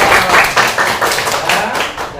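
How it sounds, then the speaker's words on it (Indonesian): Close, loud clapping from students in a classroom, applauding their classmates after a discussion, in an irregular, fairly dense burst of hand claps. "Kasih tepuk tangan dulu buat teman-teman."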